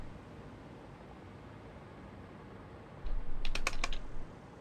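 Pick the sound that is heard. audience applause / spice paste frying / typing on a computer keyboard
typing on a computer keyboard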